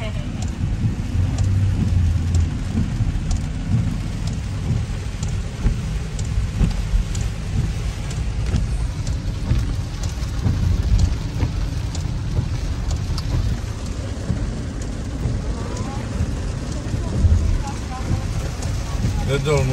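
Steady heavy rain with rumbling thunder, a dense continuous wash of noise lasting throughout at an even level, with no voices.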